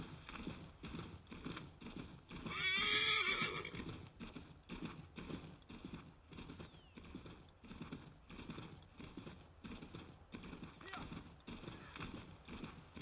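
Fast rhythmic hoofbeats of a galloping horse in Assassin's Creed III with a brief high neigh early on, under continuous background game sound.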